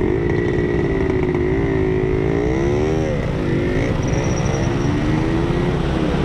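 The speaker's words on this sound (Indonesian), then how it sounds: "King RX King. Motor kencang." A Yamaha RX King motorcycle engine revs loudly nearby at a red light, its pitch rising and falling through the throttle, over a steady hum of traffic.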